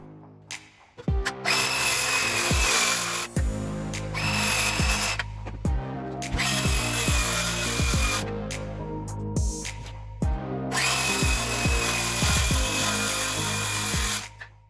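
A loud power tool cuts into cabinet wood in three long bursts, each whining steadily for a few seconds with short pauses between, no voices.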